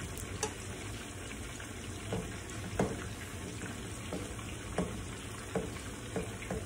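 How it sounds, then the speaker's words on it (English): Puerto Rican white rice is stirred in a pot over a faint steady sizzle, with soft scraping scoops landing every second or so, quiet and close. "let's stir our rice"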